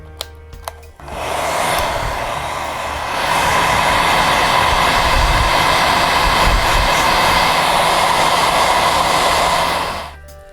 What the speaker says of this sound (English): we're just gonna go ahead and blow dry it